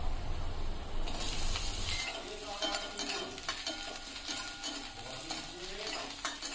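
Ginger and garlic fry and get stirred in a pan for a Bengali chili prawn dish, with spring onion bulbs added. A steady loud sizzle opens the clip, then eases into softer frying with scraping stirring strokes.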